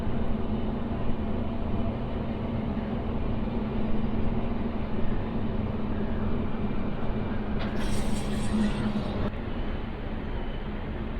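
MEMU passenger train 67284 arriving at Kaldari station heard from inside the carriage as a steady loud rolling rumble with a constant hum, continuous throughout with no talking.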